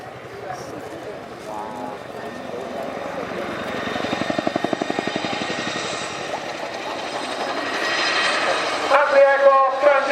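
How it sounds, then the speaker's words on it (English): A Chinook helicopter flying at the Royal International Air Tattoo air show, its heavy rotor thrum and engine roar rising and falling. A commentator talks over the loud, continuous aircraft noise. "As the aircraft transitions away into forward flight, the Chinook will now reposition"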